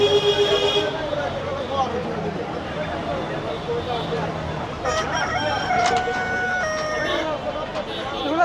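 Roosters and chickens at a busy rural poultry market in Tongi, with crowing and clucking rising through a dense crowd din and people talking close by.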